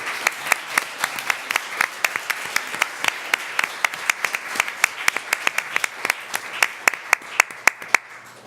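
Sparse applause from a modest crowd at a school board of education meeting, with distinct individual claps in a fairly quick, uneven rhythm lasting several seconds.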